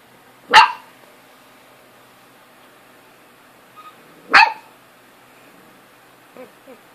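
A puppy barks at its own reflection in a mirror: two sharp, loud yaps a few seconds apart, followed by a couple of faint, soft whimpers in an otherwise quiet room.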